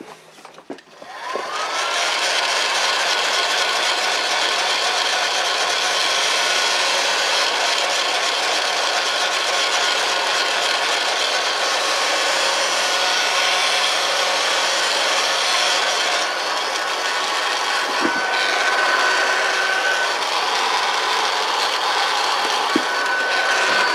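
A heat gun blows steadily over a wool and resin casting, a loud continuous airy roar that starts after a brief quiet moment and holds evenly throughout with faint clicks near the end.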